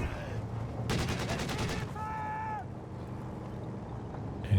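A heavy DShK machine gun in a video game fires one rapid, roughly one-second burst of close, dense shots, followed by a short tonal whine over steady battlefield ambience.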